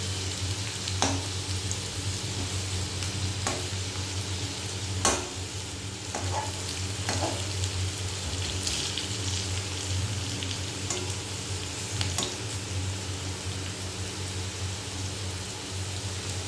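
Steady close sizzling and crackling of food frying in a pan runs throughout, with irregular clicks and scrapes of a utensil stirring and a few louder knocks, unaccompanied by speech.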